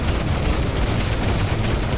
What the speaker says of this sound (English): You can hear him exploding outside the screen.